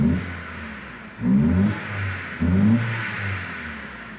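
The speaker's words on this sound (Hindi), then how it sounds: "गाड़ी आरपीएम यानी एक्सीलेटर भी प्रॉपर ले रही है" A repaired Hyundai Accent's engine idles and is revved twice with the accelerator, each press bringing a short rising swell of engine noise that falls back to idle, close and loud.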